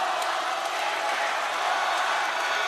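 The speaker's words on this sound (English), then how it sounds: "The cheering for the Kings much louder" A dense, steady roar of a basketball crowd cheering for the New Taipei Kings during a PLG Finals game against the Taoyuan Pauian Pilots, continuous and loud throughout with no clear breaks.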